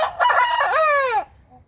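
A Delaware rooster crows once, close and loud: a single strained cock-a-doodle-doo that rises and then trails off, followed by quiet.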